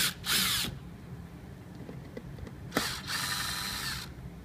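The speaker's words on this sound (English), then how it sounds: "grab our screwdriver with a Phillips number 2 bit and remove the outer perimeter screws" Phillips number 2 bit driver backing out the outer perimeter screws on a front panel during an annual service, giving two bursts of whirring ratchety driving separated by faint clicks and handling sounds, close up with no voices.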